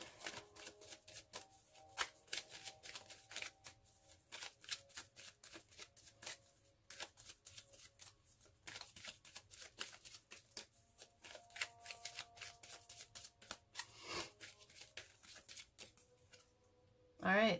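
Oracle cards are shuffled in quick, crisp riffles and flutters at close range, a faint soft patter running throughout with a louder final snap at the end.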